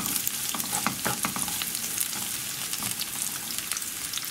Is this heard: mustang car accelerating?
no